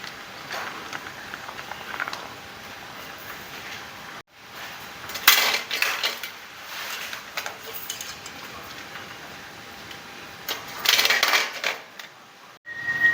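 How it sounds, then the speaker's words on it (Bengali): Boiled eggs being placed into a bowl, with a few scattered light clacks and knocks against the dish over quiet background and no talk. "ডিমগুলি একটা পাত্রের মধ্যে তুলে রেখে দেব।"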